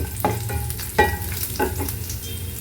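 Dried red chillies and vadagam fry in oil with a soft, steady sizzle, broken by a few brief scraping and clinking stirs.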